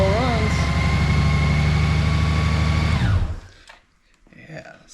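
The electric reverse motor of a Honda Goldwing GL1800 motorcycle runs with a steady, tonal whine and a brief pitch wobble at the start, then cuts off abruptly, leaving faint handling noises.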